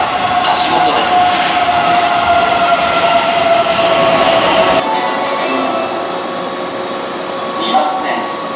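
A Keihan electric train at Kuzuha station platform as a typhoon approaches: a steady rolling rumble and hum of cars moving along the platform that then eases off, with faint voices in the background.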